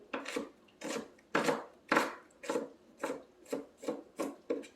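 An onion being sliced with a knife on a board for tomato sauce, with about ten steady rasping strokes in a regular rhythm, close and moderately loud, and no voices.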